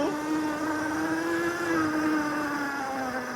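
Cemoto D02 budget electric dirt bike ridden off-road in Mode 2, its motor giving a steady high whine that rises slightly and dips, close and loud over wind rush, with no talking.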